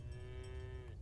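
A single cow lows once in Farm Together 2, a clear, steady moo lasting under a second that falls off at the end over a low background rumble.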